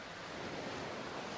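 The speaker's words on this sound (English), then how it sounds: "Her blue fins splash loudly." Blue swim fins splash in warm water, a steady broadband wash of churning water that runs unbroken for the short stretch, with no voices.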